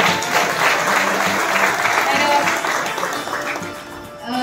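An audience applauding at a talk, a dense, loud wash of many clapping hands that holds steady and then fades slightly at the end.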